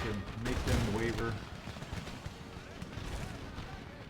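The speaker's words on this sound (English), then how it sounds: "Dropping some cannon fire on them" Cannon fire in Empire: Total War (Darthmod) battle: a burst of heavy booming shots early on, then a rumbling, crackling battlefield din with scattered distant gunfire continuing under it.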